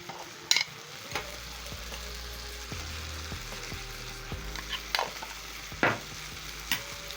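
Beans and rice stir fry sizzles steadily in a pan while a spoon scrapes and stirs through it, with a few sharper clinks and scrapes over the constant frying hiss.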